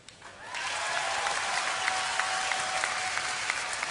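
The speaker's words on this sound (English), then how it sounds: "So get ready to applaud more" An audience bursts into applause, many hands clapping together in a dense, sustained roar that starts suddenly and holds steady.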